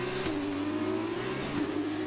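An F2 race car in the F1 2019 video game accelerating hard through the gears, a steady loud engine drone with two sharp upshifts breaking the pitch, close and continuous.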